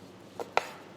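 A knife slices through rested beef against the grain, giving two short, crisp cutting strikes close by in an otherwise quiet kitchen.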